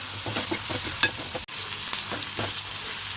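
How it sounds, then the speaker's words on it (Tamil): Spices for liver gravy sauté in a hot pan, a steady close sizzle broken by quick scraping strokes of a stirring spoon and a single sharp tap midway. "இப்போ நல்லா வதக்கி விட்டுருவோம் எல்லாத்தையும்"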